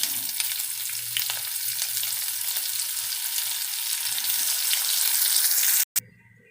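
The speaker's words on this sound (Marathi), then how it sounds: "जिरे गरम झाला आहे लगेच कांदा टाकून घेऊया" Onion hits hot oil with cumin and fries in a loud, continuous sizzle with occasional stirring clicks, the hiss cutting out abruptly near the end.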